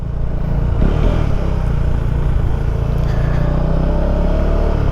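A motorcycle engine roars loudly and close as the rider pulls away, a steady dense rumble with slight rising revs over wind noise throughout.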